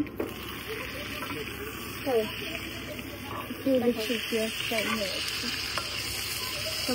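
Onions stirred while frying in a pan give a steady sizzle with scraping spoon strokes, and a voice speaks over the cooking throughout.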